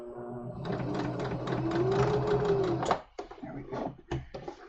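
Sewing machine stitching a seam in fabric for a summer tunic, a close, steady rapid whir that stops abruptly, followed by a few scattered clicks and knocks.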